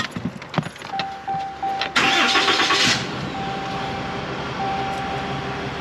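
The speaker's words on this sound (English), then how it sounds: "Pop in there, start it up." A pickup truck's engine cranks and starts after diagnostic codes are erased, a short loud surge of starting noise followed by a steady idle with a faint tone running underneath.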